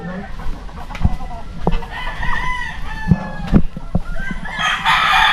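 Rooster crowing among a flock of chickens, with repeated crows and clucks close by over a busy barnyard background; a person talks faintly.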